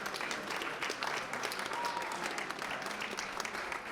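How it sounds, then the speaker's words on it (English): Arena applause at a mixed doubles curling semifinal as the team leaves the ice, a sustained wash of clapping from the crowd, even and moderately distant throughout. "And Gallant Walker come off the ice to a nice applause."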